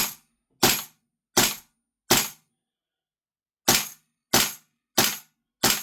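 A VFC Maxim MDX SBR gas blowback airsoft rifle fired from an empty magazine, cycling its bolt in sharp, loud, close cracks: four evenly spaced shots, a pause of about a second and a half, then four more.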